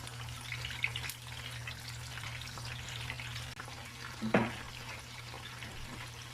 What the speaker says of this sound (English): So we're going to let the fish fry on each side about 2 to 3 minutes, okay?